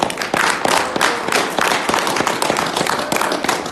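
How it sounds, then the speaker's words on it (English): Close, loud rhythmic clapping from a gathered audience, sharp individual claps in quick succession forming a lively, uneven round of applause. "give yourselves another round of applause"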